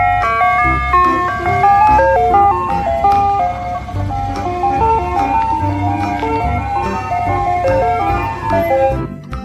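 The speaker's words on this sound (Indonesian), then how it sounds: "Yang ini ada mobil es krim." A toy ice cream truck plays its tinny melodic jingle continuously, loud and close, with a note-by-note tune repeating over a low rumbling hum and possible faint talk.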